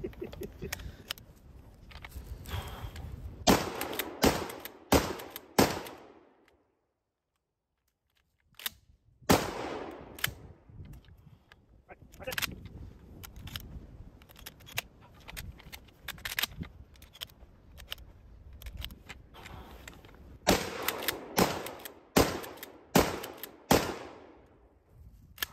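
A G Force GFP3N pump shotgun firing slugs, buckshot and birdshot: sharp, loud reports in quick clusters, broken by a silent pause and then further bursts of shots.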